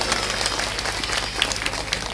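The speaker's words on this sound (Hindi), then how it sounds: "तो आसपास के जो पड़ोसी हैं इनके लिए भी जोरदार ताली बजा दो।" An audience at a Bhagwat katha gives a burst of applause, a dense, continuous patter of many hands clapping together at steady loudness.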